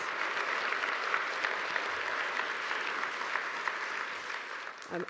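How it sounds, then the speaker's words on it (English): An audience at a morning community breakfast event gives a steady round of applause, a continuous, moderately loud patter of many hands that carries on without pause. "another round of applause"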